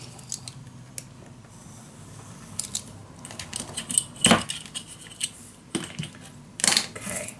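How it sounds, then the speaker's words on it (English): Scissors snip a paper piece for a scrapbook mini album, making several short, crisp cuts and light rustles at irregular intervals, close by and fairly quiet, with one sharper crunching snip near the middle. "Alright, so let's cut this straight."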